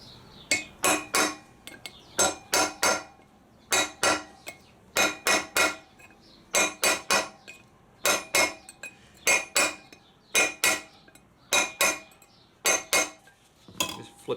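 A drift hammered to knock out a rear wheel bearing on a DR650 motorcycle, sharp ringing metallic strikes in tight groups of two or three, repeated steadily and close, with quiet gaps between bursts.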